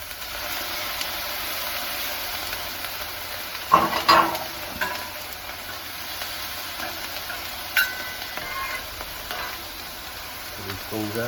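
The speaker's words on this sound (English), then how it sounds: "we're going to just hit the grill with these prawns" Prawns and calamari frying on a Blackstone griddle, a steady loud sizzle with a few sharper spits and scrapes of stirring.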